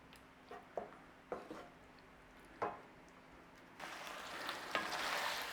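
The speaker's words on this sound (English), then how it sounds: "So just give it a little stir over" Quiet stirring of chicken Massaman curry in an oily pan: a few soft scrapes and knocks of the spoon, then a gentle, building sizzle of frying.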